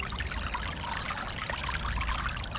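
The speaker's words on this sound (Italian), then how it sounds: "dobbiamo immergere tutto il tubo in modo tale da riempirlo d'acqua e far uscire tutta l'aria" Water gurgles and pours continuously as a pool vacuum hose is pushed under the surface and fills up, a dense, close splashing trickle with no talking.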